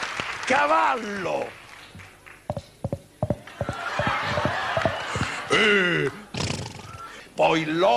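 A voice imitates a horse neighing on a televised amateur talent show: a shrill whinny, a run of clicking hoofbeat-like sounds and snorts, then more whinnies, with audience laughter and applause underneath.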